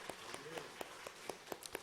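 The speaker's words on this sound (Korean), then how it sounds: "우리 하나님께 영광의 박수로 찬송 올려드립니다." Congregation at a Korean Sunday church service clapping in a slow, regular rhythm of sharp claps, roughly one every quarter second, with a faint voice underneath.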